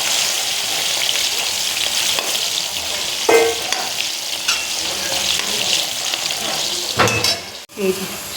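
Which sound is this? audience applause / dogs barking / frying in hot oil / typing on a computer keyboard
frying in hot oil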